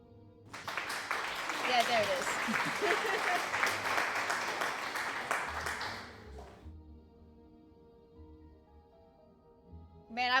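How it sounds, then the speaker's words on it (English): Canned applause sound alert on a live game stream, a dense crowd-style clapping burst that plays for about six seconds at moderate volume before cutting off, with a voice speaking faintly around it. "I have a sound alert that's just applause."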